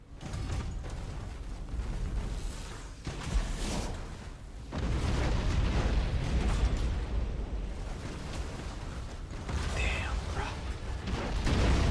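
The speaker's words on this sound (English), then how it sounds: "the weapon and explosion sounds could stand on their own. That is some crisp artillery." Artillery fire and explosions from the space battle game Battlefleet Gothic Armada 2 boom in loud, overlapping bursts with rumbling tails, a dense barrage of crisp weapon blasts and heavy detonations.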